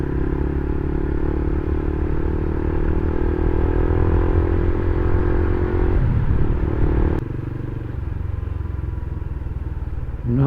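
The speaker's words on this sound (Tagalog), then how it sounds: "Napakaraming motor." Many motorcycles pass along a busy street, a dense, continuous engine rumble and clatter that drops in level after a sharp click partway through.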